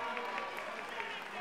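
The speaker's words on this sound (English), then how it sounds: "Please keep your applause going." An audience applauds after a women's boxing bout, a dense steady wash of clapping at moderate distance with a voice over it.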